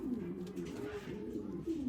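A pigeon coos softly while held in a hand at a loft, a low continuous burbling close by with someone talking over it.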